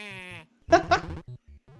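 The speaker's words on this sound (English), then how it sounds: "I like the sheep sound effects." Video game sheep bleating in a short series of wavering, buzzy bleats, a couple of louder calls in the middle, with blocky game audio around them; clear and close.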